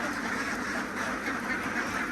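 Ducks quack continuously and close by, a dense overlapping chorus from a flock of laying ducks being delivered in Bang Saphan, Prachuap Khiri Khan, Thailand.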